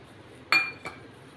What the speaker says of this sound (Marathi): आता हे चांगल्या प्रकारे हलवून घेऊया आपण